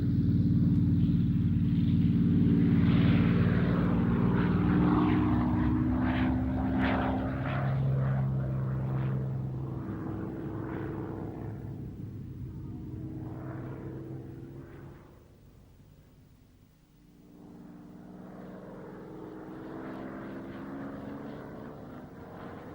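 A Spitfire fighter aircraft flying overhead, its propeller engine droning loudly and steadily, swelling and shifting in pitch, briefly fading before returning strong.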